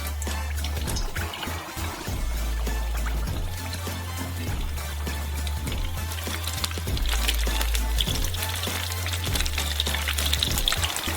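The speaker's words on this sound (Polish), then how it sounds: "Gdy są gorące, wysyłamy nasze mini pizze do smażenia." Mini calzone pizzas fry in hot butter in a saucepan, with a continuous bubbling, trickling sizzle and a low hum underneath.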